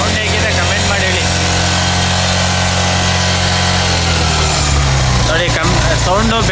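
An old-model Honda Shine motorcycle engine runs steadily after being refitted, a loud, even low hum throughout while someone talks over it and other workshop sounds mix in.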